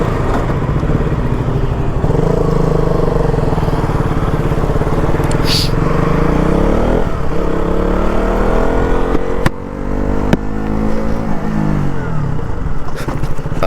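KTM RC 200 motorcycle ridden on a highway: a loud, steady engine drone whose pitch climbs and falls with the revs, with a short dip around a gear change, under constant wind rush.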